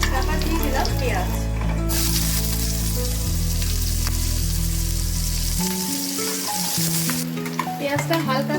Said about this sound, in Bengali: পেঁয়াজটা হালকা করে ভাজা হয়ে গেছে।